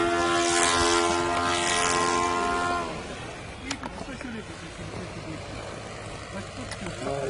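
Small model propeller airplane with a newly changed propeller, flying outdoors: a loud, steady droning engine whine with harmonic tones for about three seconds, then fading and dropping away into the background as it moves off, with people talking.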